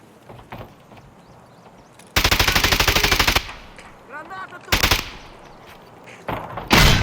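Automatic gunfire in Escape from Tarkov rips out in several loud bursts, a long sustained volley followed by shorter ones, separated by quieter gaps of in-game movement and faint sounds.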